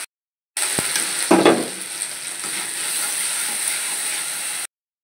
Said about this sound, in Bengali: এদিকে আদা রসুন বাটা 1 চামচ দিয়ে দেবো, দিয়ে ভালো করে নাড়বো।